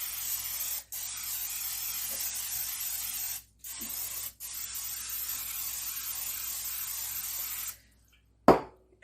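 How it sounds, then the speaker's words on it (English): Cooking spray hisses onto 9 by 13 baking pans in long, steady bursts with a few brief pauses, ending in a short final spritz; close and fairly loud, with no talking. "So first I'm going to spray my pans."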